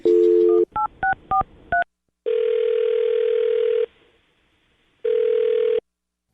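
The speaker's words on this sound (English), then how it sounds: "I'm going to dial his phone number right now" Touch-tone phone dialing: a series of short, distinct DTMF beeps in quick succession, followed by long, steady ringback tones with a pause between them, loud and close with no talking.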